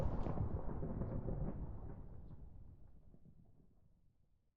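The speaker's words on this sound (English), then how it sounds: "He's currently summoning lightning." Thunder rumbles from lightning summoned in the Minecraft GregTech New Horizons modpack, a loud broad roll that starts strong and slowly fades away over several seconds, with no talking.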